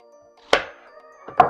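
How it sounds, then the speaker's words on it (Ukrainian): Three onions dropped in with 3 kilograms of pork liver for a pork liver pâté, making two sharp, close thuds about a second apart, each trailing off briefly, with quiet in between. "Кидаю цибулю, 3 цибулини"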